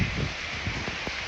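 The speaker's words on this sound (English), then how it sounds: "It's completely raining out." Rain falling outside, a steady dense hiss of drops with a few soft patters, brief and close, no voices.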